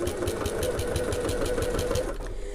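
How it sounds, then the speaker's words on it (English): A sewing machine stitches foam stabiliser onto fabric panels, running steadily at a fast, even mechanical rhythm, close and loud, before slowing near the end. "sew all the way around all 4 of these sides just to attach this"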